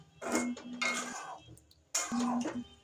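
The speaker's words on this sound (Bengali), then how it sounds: "তো আমি এখানে ঢাকা দিয়ে দিলাম আর কি" A metal lid goes onto a pot of potatoes cooking for aloo dum, two clattering bursts with a ringing scrape in between, close and fairly quiet with nothing else around.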